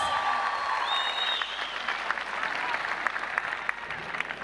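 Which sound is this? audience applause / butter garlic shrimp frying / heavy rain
audience applause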